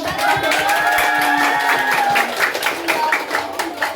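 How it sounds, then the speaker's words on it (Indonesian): A group of children clapping together at a community outreach session, steady energetic applause with crowd noise and voices mixed in throughout. "Tepuk tangan dulu dong."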